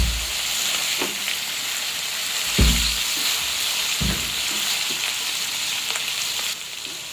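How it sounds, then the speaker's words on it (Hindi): Beef and onion stir fry sizzles steadily in a hot pan, a continuous close hiss broken by a few sharp clanks and scrapes of stirring. "ये स्टिर फ्राई बीफ जो है, ये देखें जी माशाल्लाह, तैयारी के मरहले में से गुजर रहे हैं।"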